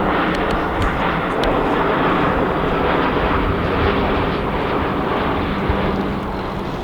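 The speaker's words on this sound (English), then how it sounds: "Huge jet flying over." A huge jet passes high overhead during a Piper Cherokee E-flite RC plane flying session, a broad, constant roar that stays loud and steady throughout with no talking.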